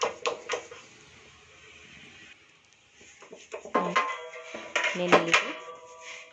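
Chakli dough made from jowar flour goes into a container that is then shut, producing a few close clinks and knocks of a lid and vessel, with quiet gaps between them.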